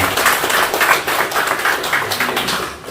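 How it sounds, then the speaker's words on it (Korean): A church congregation at a Korean thanksgiving service claps together in a sustained round of applause, the dense clapping close and fairly loud, rising and falling slightly over a few seconds. "우리 말씀 주신 하나님께 감사의 박수 올려드리도록 하겠습니다"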